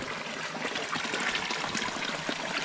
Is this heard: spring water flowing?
yes